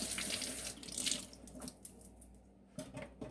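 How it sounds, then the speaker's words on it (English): A squash with its seeds dumped out is rinsed under a running kitchen tap, steady splashing water hitting the sink for a moment before the flow cuts off, leaving scattered drips and clunks, close by with no talking. "So the only thing you're going to do is dump the seeds out and rinse it off."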